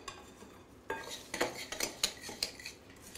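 A utensil stirs a dairy-free crumble topping of coconut oil and bits of orange in a bowl, giving a quiet run of close scraping and light clinking strokes after a short pause.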